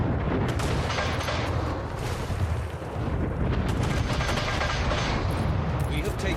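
Harbor cannons and mortars fire in the city-builder game Anno 1800, a loud, dense barrage of booming blasts and rumbling impacts that continues almost without a break, with a short lull partway through.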